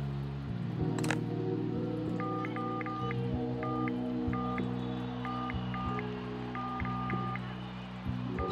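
Telephone keypad tones in the video game Unforeseen Incidents: a run of short, evenly spaced dialing beeps in irregular clusters over a steady low background hum and ambient game music.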